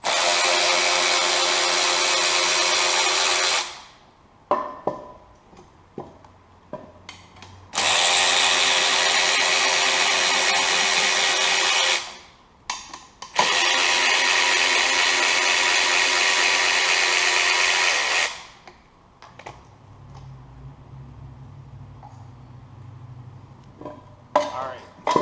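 A power tool removes 10mm throttle body bolts on a Ford SVT Contour, three long loud whirring runs with short gaps between them, then clinks and handling noises and a lower hum at the end.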